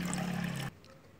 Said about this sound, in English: put water into the other vessels up to 4 centimeter